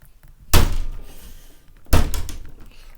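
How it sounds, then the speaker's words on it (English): A door is pulled shut nearby, making two heavy, close thuds about a second and a half apart, each with a short rattling decay, with no talking. "I'm going to close this door."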